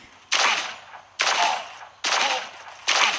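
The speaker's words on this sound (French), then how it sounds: "On utilise le petit fusil à pompe" Pump-action shotgun blasts in the shooter game Guns of Boom, four loud, booming shots spaced roughly a second apart, each with a decaying tail.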